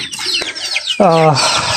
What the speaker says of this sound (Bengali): এই যে দেশি মুরগি বাচ্চাগুলো দেখতেছেন